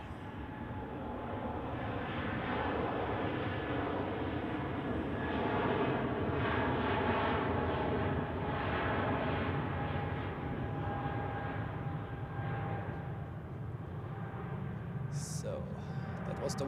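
Airbus A320 departing from runway 28 at Zurich Airport, a steady broad engine roar holding for the whole stretch at constant strength, with a voice talking faintly over it.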